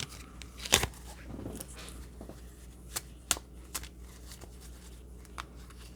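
Tarot cards are shuffled by hand close up, producing a series of quick papery riffles and soft flicks at irregular intervals, fairly quiet, with no talking.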